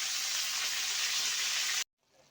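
Chopped onion tipped into a hot oiled pan for shakshuka frying: a loud, steady hiss and sizzle that cuts off abruptly, leaving only a faint crackle.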